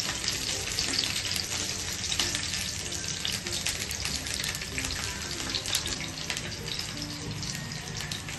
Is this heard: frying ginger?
yes